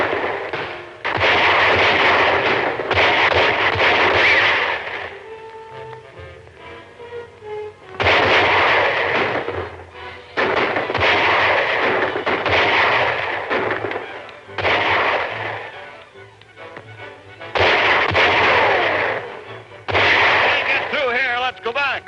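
Gunfire in a 1941 Western film erupts in loud, dense volleys of sharp shots and echoing blasts, repeating in several long bursts separated by brief lulls, with voices shouting among them.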